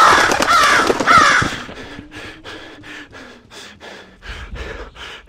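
Crows caw in repeated rhythmic calls in the FNAF VR Curse of Dreadbear video game, a steady series of harsh pulses following a loud, noisy rush, with no voices.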